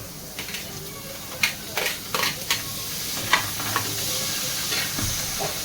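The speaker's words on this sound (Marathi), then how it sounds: "तर ह्यामध्ये आता आपल्याला तवा गरम झालाय. कांदे टाकून घेऊ." Onions hit a hot tava and sizzle steadily, with sharp crackling spits and scraping stir strokes popping out over the constant frying hiss.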